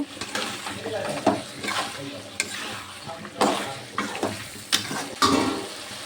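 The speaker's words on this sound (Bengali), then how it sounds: "আলু পটল ভালো করে গলিয়ে নেব, ভালো করে কষে নেব" Potatoes and pointed gourd frying in a pan, a continuous close sizzle with repeated spatula scrapes and stirring knocks every second or so.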